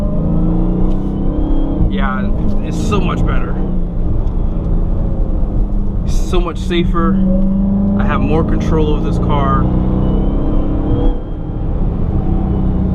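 Lowered 2020 Dodge Charger Hellcat Widebody driving in 500 horsepower mode, a steady low engine and road drone inside the cabin, with people talking over it.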